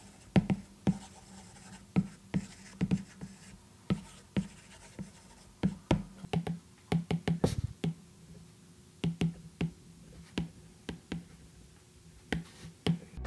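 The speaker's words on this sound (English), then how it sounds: "Take a listen to the difference in writing texture while using an iPad with Paperlike versus using an iPad without" Stylus tapping and scratching across an iPad screen, comparing strokes on a Paperlike matte screen protector against the bare glass: rapid sharp clicks and short scratchy strokes in irregular bursts, close and clear, with no talking.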